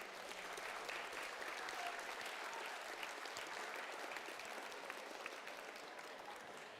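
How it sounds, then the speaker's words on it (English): Applause for the second-place team at a FIRST Tech Challenge robotics qualifier, a broad, even wash of clapping from a large audience heard at some distance, steady throughout without voices standing out. "give a round of applause for second place, 20124"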